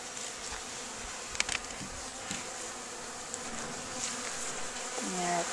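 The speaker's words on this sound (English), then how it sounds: "There are probably some bees on the inside." A steady, close buzzing of many bees inside an opened beehive during an inspection hums continuously, with faint taps and knocks and a voice briefly at the end.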